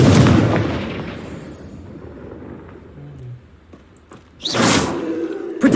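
Confringo blasting spell explosions in Hogwarts Legacy, a loud booming blast at the start fading into rumble, followed later by another sharp burst and a sustained roar.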